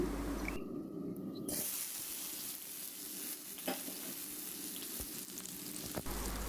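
Chopped onion, garlic and dried red chilli sizzle and fry in hot oil in a pan for a leafy greens stir-fry, a steady close crackling hiss with occasional stirring clinks.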